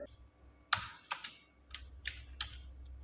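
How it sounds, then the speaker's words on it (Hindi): Soft computer keyboard typing while entering text into an MS Word bill book, a handful of separate clicks spaced irregularly over a quiet background, close and faint with no talk. "और उसके बाद यहाँ पे मैं टाइप करूँगी सीरियल नंबर"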